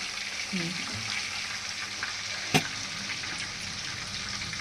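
Mutton offal frying in a pan with salt and ginger paste gives a steady, moderately loud sizzle, with a short utensil clatter near the start and a sharp click midway.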